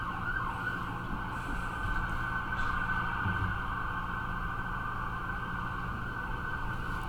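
A faint, steady siren wails in the distance over a constant low background rumble, with no talking.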